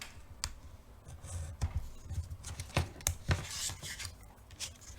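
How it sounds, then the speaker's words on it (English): Scissors snipping through a paper cover for an accordion book, a series of short crisp cuts at an irregular pace, close and fairly quiet, with no talk. "cut to the corner and then cut the square"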